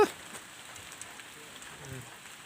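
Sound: heavy rain falling

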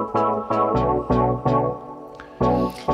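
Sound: Classic EDM House combinator sound pack in Reason

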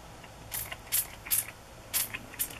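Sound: spray bottle misting tracing paper

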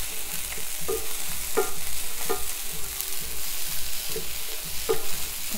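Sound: vegetables being stir-fried in a pan

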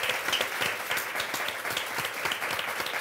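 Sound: audience applause

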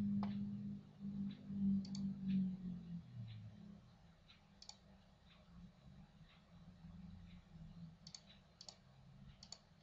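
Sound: computer mouse clicking

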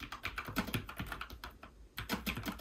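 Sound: typing on Logitech MX Mechanical keyboard, tactile quiet switches

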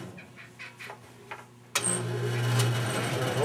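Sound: bowling ball spinner running while polishing ball with compound

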